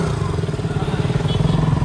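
KTM motorcycle being ridden on a road, its engine thrumming loud and close with a steady pulsing beat throughout.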